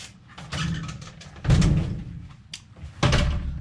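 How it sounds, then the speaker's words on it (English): A door being shut in a room cluttered with shelving, a loud solid thud followed by rattling and another heavy knock, close to the microphone with no speech. "I'll shut this door here."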